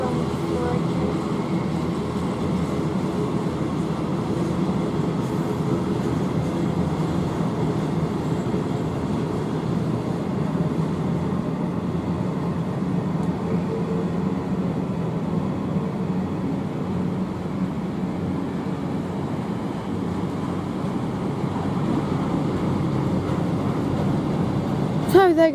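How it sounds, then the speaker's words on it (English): Long freight train passing on the West Coast Main Line at Rugby, a steady, sustained rumble of wagons rolling by at moderate distance, continuous throughout with occasional voices over it. "it's a long freight train."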